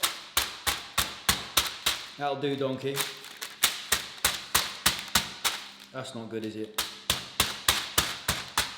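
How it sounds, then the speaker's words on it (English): A hammer pounds chicken again and again in a quick, steady rhythm of sharp thuds, pausing twice while someone speaks. "And then what we'll do is smack up our chicken."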